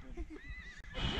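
A horse whinnies with a high, wavering neigh, followed by some shuffling and movement noise nearby.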